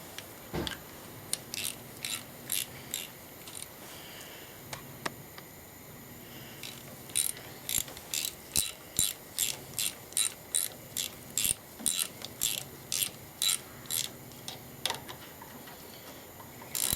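Ratchet spanner tightening 9/16 injector nuts on a 70-year-old International 275 tractor, rapid runs of crisp clicking in repeated strokes, close up, with brief gaps between bursts.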